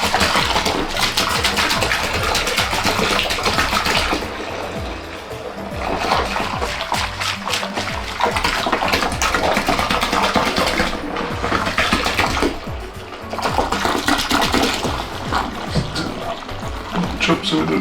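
Hot dark beer wort pours and splashes steadily into a plastic fermenting bucket on a home brew-in-a-bag brew day, a loud continuous gushing with brief dips as the flow changes.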